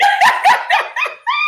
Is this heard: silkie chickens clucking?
no